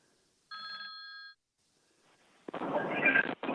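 A telephone rings with an incoming call from a radio show guest: one electronic ring burst, a pause, then a voice answering on the line over a faint background.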